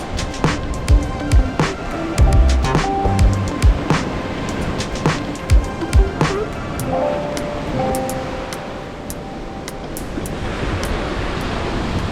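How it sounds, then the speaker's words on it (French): Lake shore waves on Lac Saint-Jean surging steadily after a windy night, with a continuous wash of surf and repeated sharper splashes breaking nearby, wind noise blended in throughout. "Il y a eu vraiment beaucoup de vagues toute la nuit. Beaucoup de vent, beaucoup de vagues."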